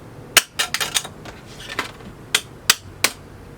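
Metal Crypto.com Visa card clinking on a hard surface, a run of sharp bright metallic taps in uneven bursts, several close together, then three separate clear clinks.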